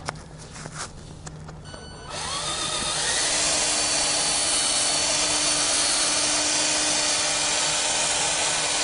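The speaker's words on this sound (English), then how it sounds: "Throw on a buffing pad, add a little bit of compound to the pad." A drill spinning a buffing pad with polishing compound on a plastic headlight lens spins up after a couple of seconds into a steady, loud, close whine that runs to the end without talk.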